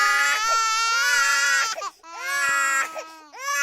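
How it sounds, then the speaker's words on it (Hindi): A baby cries loudly and close by in two long wailing bursts, separated by a brief gasp for breath, with the cry starting up again at the end. "तो सबसे पहले है बच्चे की रोने की आवाज।"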